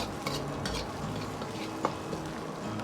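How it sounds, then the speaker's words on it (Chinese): Drained spices are stir-fried with scallion, ginger and garlic in a wok for braised lamb, a steady close sizzle with a spatula scraping and one sharp clink. "接着下入控干水分的香料一起煸炒，炒出香料里边多余的水分"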